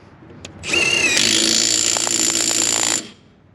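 A Milwaukee M12 impact driver loosening a fastener: a close, loud whirring motor that spins up sharply, hammers with rapid impact rattling for about two seconds, then stops once the fastener breaks free.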